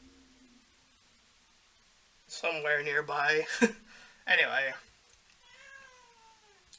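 An indoor cat meows close by: a few drawn-out, wavering meows in quick succession, then a fainter trailing cry, with a brief spoken phrase heard.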